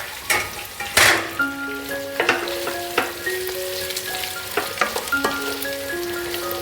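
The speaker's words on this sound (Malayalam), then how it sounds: "ഓയിൽ ചൂടായി വരുമ്പോൾ നമുക്ക് അതിനകത്തേക്ക് സവാള ഇട്ട് കൊടുക്കാം" Four large sliced onions dropped into hot oil for a fish biryani, a loud burst of sizzling followed by steady crackling frying with repeated sharp spoon taps and scrapes against the pan.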